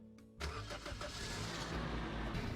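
A car engine starts up in the Roblox game Lumber Tycoon 2: a sharp cranking onset followed by a loud, steady engine rumble that holds to the end.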